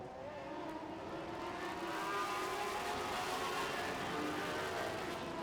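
Full-size 900-horsepower sprint cars racing on a dirt oval in a feature event, a loud continuous wall of engine roar with several cars revving together, steady throughout with no talking.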